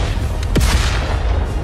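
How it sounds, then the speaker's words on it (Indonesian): A single heavy boom rendered as an explosion effect in a fantasy audio drama, a sharp burst followed by a brief rumbling tail over a dense low background. "Terjadi ledakan di mana-mana"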